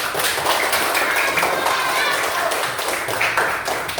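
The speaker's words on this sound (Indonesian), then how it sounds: "Baik, berikan aplaus kepada kelompok 1" A classroom group claps for the first team, steady overlapping hand claps filling the room at close range, fairly loud and continuous throughout with no pause.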